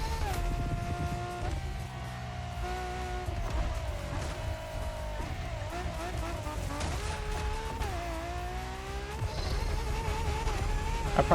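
A LaFerrari engine in The Crew Motorfest races loud and steady throughout, its tone climbing and dropping through gear changes, with tire noise along the way.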